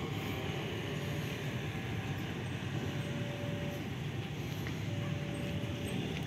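Indonesian diesel locomotive CC 201 04 02 being shunted at the Yogyakarta rail depot, a continuous broad rumble of engine and rolling stock with faint high squeals, steady and moderately distant throughout.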